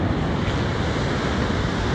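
Steady wash of ocean surf rolling onto a beach without shells or rocks, loud and continuous with wind buffeting the microphone and no talking.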